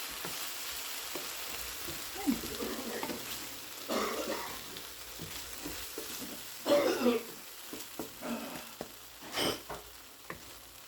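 Spinach artichoke dip seasoned with pepper is stirred in a pan, with intermittent soft scraping and stirring strokes over a low, steady sizzle, close by and without speech.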